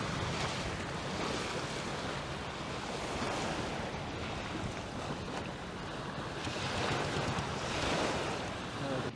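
Waves wash onto a beach in a broad, continuous rush that swells and eases, mixed with wind buffeting the microphone at a moderate, fairly distant level.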